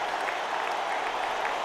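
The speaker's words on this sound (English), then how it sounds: "Ear-splitting cheers and the applause were the curtains that closed out this performance of flowers." Dense, steady applause and cheering from a crowd closing out a flower performance in the Radiant Tale video game, continuous and even throughout with no pauses.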